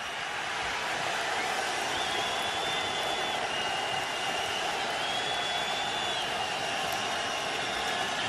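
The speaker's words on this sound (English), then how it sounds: "this crowd is ignited, so it's going to be noisy for that offense." NFL stadium crowd at a Minnesota Vikings versus New York Jets game, a broad sustained roar of thousands of fans, steady and distant-sounding, with a faint whistle-like tone rising above it at times.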